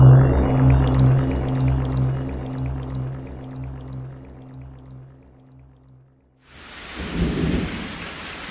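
Video game rain and thunder: a continuous rain hiss with low rolling thunder that fades almost to silence, then a fresh close burst of rain and rumbling.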